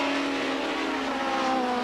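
Touring race cars from the 1990 British Touring Car Championship at Goodwood, three cars with nearly 900 horsepower between them, roaring steadily past at around 125 mph with a sustained, loud engine drone.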